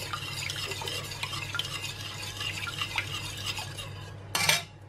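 An egg is stirred into melted butter, almond milk and vanilla for a gluten-free chocolate pudding: a spoon or whisk scrapes steadily around a bowl in quick repeated strokes, ending with a brief louder clatter.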